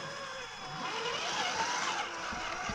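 Steady engine drone from a Ford Bronco rolling slowly over a curb, heard continuously at moderate distance with a slight rise in effort partway through and no talking.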